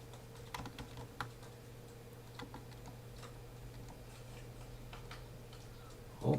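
Faint, scattered computer keyboard key presses come as a few soft clicks over a steady low hum, then a louder thump right at the end.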